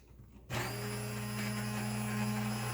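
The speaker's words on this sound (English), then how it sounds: "I'm going to use my immersion blender to blend everything up" An electric immersion blender starts abruptly after a brief quiet moment, blending soup, then runs with a steady, loud motor whine and no talking.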